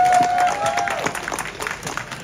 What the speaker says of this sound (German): Das mit dem Applaus klingt ja super ohne Aufforderung.